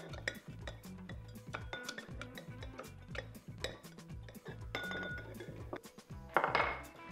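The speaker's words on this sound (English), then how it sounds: "And now a muddler, which is anything that you can jam down in this to mix the stuff together." Cucumber and mint are crushed with a muddler in a glass for a vodka mojito, producing repeated dull thumps and grinding knocks against the glass bottom, with clinks and a brighter rattle near the end.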